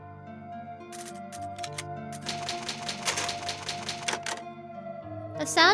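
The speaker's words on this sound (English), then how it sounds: "The sound of that typewriter clicking like that, very nice." Typewriter in the video game Resident Evil 1, clicking in rapid irregular bursts of crisp keystrokes, ending with a louder carriage-like clatter, heard over steady background music tones.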